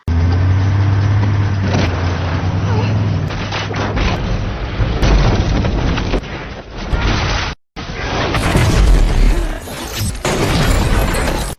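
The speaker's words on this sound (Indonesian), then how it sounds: "perintah untuk Lisa menyalakan mobil dan arahkan ke tiang tangki air" In an action film, a car is driven into the pole of a water tank, bringing a loud engine roar and heavy booming crash, a brief silent break, then more rumbling impact noise.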